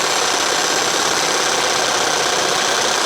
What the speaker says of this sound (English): A little bit of movement on the saw, plus the constant spinning on the lathe.